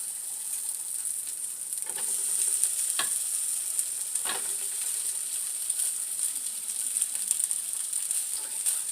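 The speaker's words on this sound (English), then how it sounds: "So now we're going to put patty in. And she's simmering. You hear that, guys?" A salmon patty sizzles steadily in hot oil with a bright, constant hiss, punctuated by a couple of sharp clinks from a utensil.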